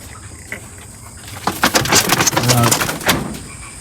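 Pigeons in a loft, with soft cooing and bird calls rising midway over low background noise, close by.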